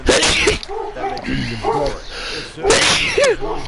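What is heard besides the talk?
a person sneezing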